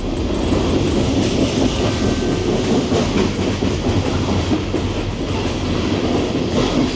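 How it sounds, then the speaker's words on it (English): Freight trains, including coal trains, rumble steadily past nearby in a Memphis, Tennessee rail yard, with continuous heavy rolling noise and faint clickety-clack of wheels on rails throughout. "You got every type of train coming through here."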